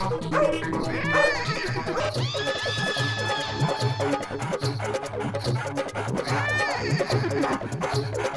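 A dog barks repeatedly and yips, with a few whiny, whinny-like cries, over a busy animated-movie soundtrack with music and effects. The barking carries on throughout at a steady level.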